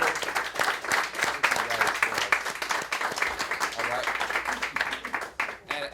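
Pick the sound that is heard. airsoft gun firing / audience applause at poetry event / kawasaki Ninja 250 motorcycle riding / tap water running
audience applause at poetry event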